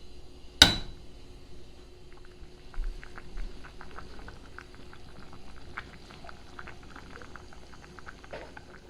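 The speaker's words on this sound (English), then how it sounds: "So I'm going to bring this up to a boil." Ham hocks and lima beans coming up to a boil in a pot, with faint, steady bubbling and small irregular pops throughout, plus one sharp clack near the start.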